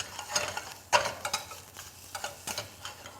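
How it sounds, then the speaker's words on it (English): Wild mushrooms lightly sautéed in a little oil, a gentle sizzle broken by quick spoon taps and stirring clicks against the pan, fairly quiet and close. "It's important to cook your mushrooms, all mushrooms, especially wild mushrooms. Just light saute."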